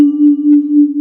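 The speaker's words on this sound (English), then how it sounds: "can you hear the reverb tail on that?" One vibraphone note played in Logic Pro X with heavy reverb, ringing as a loud, steady pure tone that sustains evenly through the second instead of dying away.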